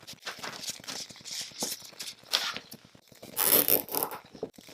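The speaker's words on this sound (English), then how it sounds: "we're just gonna start to wrap this hose around itself and secure it with zip ties." Zip ties are ratcheted tight around a coiled garden hose cut from a dollar store fence, giving rapid zipping clicks in several close bursts with faint handling rustle between them.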